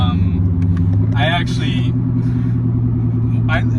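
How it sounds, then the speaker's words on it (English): A 2015 Subaru Legacy's CVT transmission drones with a steady tonal whine while the car drives, constant and close, with a person talking over it. "you can hear the CVT whine there"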